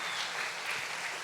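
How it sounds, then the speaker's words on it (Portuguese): Church congregation clapping for their pastor, a short stretch of dense, steady applause heard at a moderate distance, with no talk over it. "Eu queria que você louvasse a Deus com as suas palmas pela vida dele."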